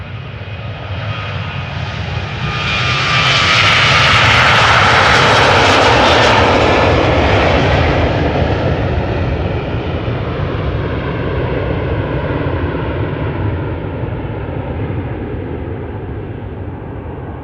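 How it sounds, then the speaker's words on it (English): A Boeing 737-800 jet airliner on a flight to Dublin at Amsterdam Schiphol, a loud, close engine roar with a whining rise that builds quickly, peaks, then settles into a steady fading rumble. "Flight 3007 going to Dublin, Ireland, 737-800"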